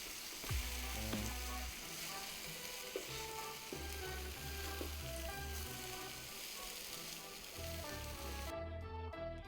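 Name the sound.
French toast frying in a pan after flipping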